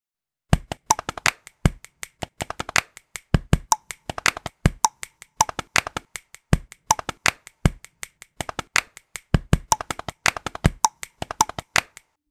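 Body percussion: finger snaps switching to sixteenth notes layered over steady leg pats, with tongue clicks added. Crisp, close, dry hits land in a tight repeating rhythm that pauses briefly between phrases. No one speaks.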